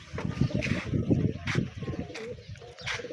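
Several pigeons coo close by in soft, repeated throaty calls, with a faint patter of rain in the background.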